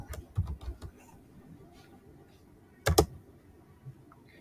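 Computer keyboard keys are tapped while typing code, a quick burst of several keystrokes near the start, then quiet, then a sharp double clack near the end, close and fairly soft.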